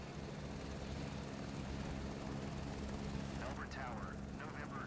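Helicopter in Microsoft Flight Simulator 2024 idles with a steady low rotor and engine drone throughout, faint and constant, with a few brief chirpy radio-like sounds near the end.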